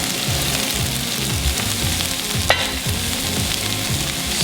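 Lump, backfin and claw crab meat sizzles loudly in a hot pan while being stirred, a dense continuous frying hiss with rhythmic scraping strokes and one sharp clink.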